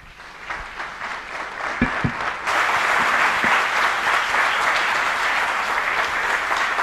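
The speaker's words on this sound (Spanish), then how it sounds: "Con ese aplauso despedimos a Domenico Di Siena" An audience applauds after a talk on the city and the commons. A few sharp claps open it, then a full, steady wave of clapping swells up and holds.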